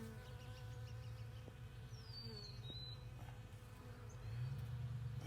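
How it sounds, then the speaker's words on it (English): Bees buzz around saffron flowers on a farm, a faint continuous hum with an occasional louder insect drone passing by against quiet outdoor background. "Lots of bees going to work on it."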